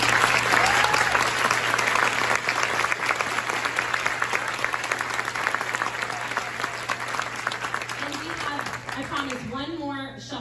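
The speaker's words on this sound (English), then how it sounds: "Can we give them another round of applause?" A concert audience gives a choir another round of applause, a long, full and steady burst of clapping that tapers slightly. A voice begins speaking over the last moments.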